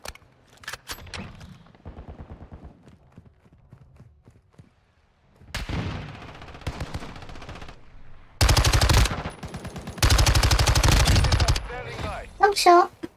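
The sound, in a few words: MX9 SMG gunfire in video game Modern Warfare II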